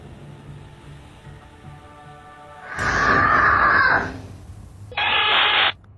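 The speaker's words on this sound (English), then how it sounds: "Then a loud scream pierces the air, sending the little girl running for mommy." A loud scream bursts out in a toddler's room captured on a nanny cam, two harsh high-pitched bursts over a quiet room hum, the second shorter and cut off sharply.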